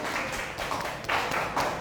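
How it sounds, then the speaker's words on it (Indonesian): Classroom clapping from students after a group presentation: a steady patter of many hands at moderate loudness, swelling slightly near the end, with no talking over it. "Beri tepuk tangan yang meriah."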